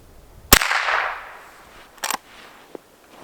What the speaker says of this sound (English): I'm going to shoot kind of up in the center